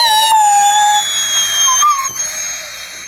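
A dog howls in a long, drawn-out wavering tone indoors, close and fairly loud, rising and falling over a few seconds with no talking.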